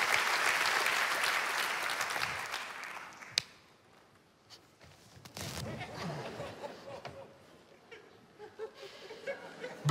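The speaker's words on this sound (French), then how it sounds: "Un tonnerre d'applaudissements pour notre président de ce soir, François, s'il vous plaît." Theatre audience at a comedy show bursts into loud applause that fades after a few seconds, followed by quieter stage sounds and scattered claps, with light laughter and a voice speaking near the end.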